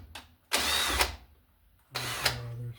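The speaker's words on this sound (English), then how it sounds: "Use a screw to drill our hole for the green screw." Two bursts of a power drill driving a screw to make a hole for an electrical box, each about a second long with a rising whirr, separated by a short quiet gap.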